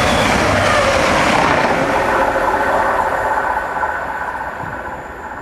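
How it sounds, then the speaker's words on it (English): A passenger train runs past on the Manchester to Cardiff line near Craven Arms Station, a loud continuous rumble with wheel noise that slowly fades as it moves away. "Trains are on this line between Manchester and Cardiff."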